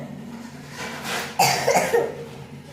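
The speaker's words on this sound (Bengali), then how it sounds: "সবাই ঠান্ডা লেগেছে সর্দি জ্বর কাশি" A single harsh cough from someone with a cold, preceded by a brief breathy rasp, close and fairly loud over a faint background hum.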